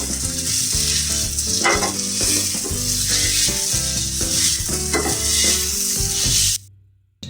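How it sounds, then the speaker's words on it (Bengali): Cooked chickpeas are mashed with a masher in a hot pan, giving a steady loud sizzle with rhythmic thumping presses up close, ending abruptly. "এখানে যে ম্যাশার রেখেছি তার সাহায্যে এগুলো এটি ম্যাশ করে দেব"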